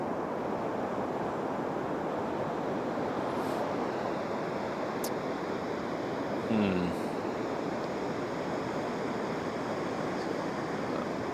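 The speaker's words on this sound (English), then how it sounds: "let's watch this wave come up here" Ocean waves washing up on Pismo Beach make a steady, broad surf roar with wind noise throughout, and a brief closer rush and thump near the middle as a wave comes in.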